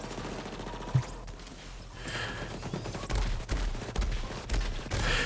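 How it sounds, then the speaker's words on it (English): Borderlands 3 needle gun firing in rapid, dense volleys that build and keep going through the second half, with steady layered game noise behind and no talk. "It's good when you get the needle gun spun up."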